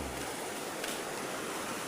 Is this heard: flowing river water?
yes